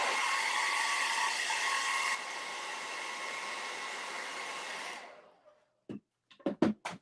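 A hair dryer blows loud, steady broadband air for about five seconds, drying paint on a painted pumpkin, then its note drops and winds down to silence, followed by a few brief knocks.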